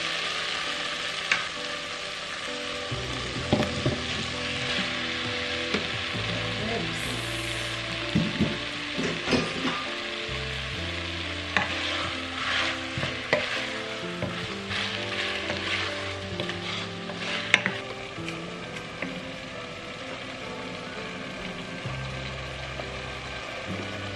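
Pork ribs hitting a pot with tomatoes set off a loud, continuous sizzle and crackle, broken by scraping and stirring clatter of the meat, heard close with no talking.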